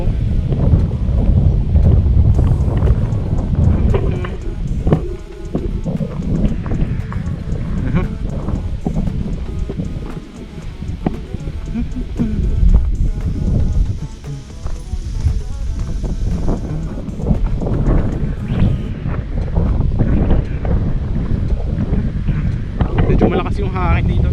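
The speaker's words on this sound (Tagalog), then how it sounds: "Yung hangin dito guys, lakas lalo dito pagkagabi, malamig" Strong wind in Tagaytay roars and buffets the microphone steadily throughout, a dense rushing noise with gusty swells and dips.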